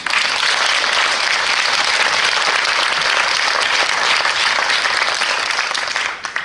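Sustained, loud applause from a ceremony audience for a jury member, the Molière-winning actor Davy Sardou, at a film festival opening night. The clapping is dense and steady throughout, with no voices, easing slightly at the very end.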